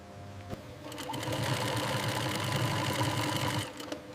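Industrial sewing machine stitching strong seams in ostrich leather at a factory station, a steady rapid whirring run of about two and a half seconds that ramps up and stops, fairly close with no talk.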